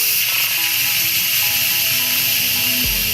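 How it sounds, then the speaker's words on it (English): Steam rushes out of an Instant Pot's vent as it is switched from sealing to venting for a quick pressure release, a loud, steady hiss that fills the whole stretch with no pause. "So we're gonna do a quick release here so you can kind of see it. So we're gonna go from sealing to venting."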